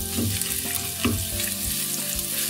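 Chopped onion and two garlic cloves fry in oil for a traditional meat lasagna sauce, with a dense, continuous sizzle and a couple of spoon stirs clacking against the pan.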